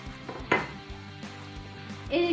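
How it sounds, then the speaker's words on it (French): Chopped onions go into a pot of potimarron squash soup with water: a few clinks and clatters of utensil on pot, brief and fairly close, with a duller knock at the end. "Ensuite, on va venir ajouter les oignons."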